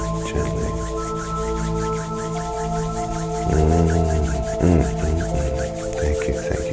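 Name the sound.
hands rubbing together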